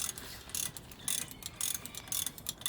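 A ratchet cracks off the wheel nuts on a Seat Leon Cupra R during a brake disc and pad change, giving rapid, close, rhythmic clicking bursts in quick succession.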